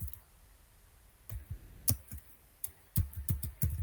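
Quick bursts of keystrokes on a computer keyboard, crisp close clicks coming in short irregular runs with brief pauses between them, quiet and with no voice over them.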